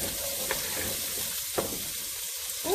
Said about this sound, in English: Put a little olive oil in a skillet. And we're going to do these vegetables first.